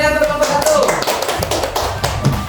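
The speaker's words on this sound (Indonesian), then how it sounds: "Tepuk tangan semuanya untuk kelompok 1." Classroom applause for a student group, a short spell of scattered, fairly loud clapping from the class with some voices mixed in.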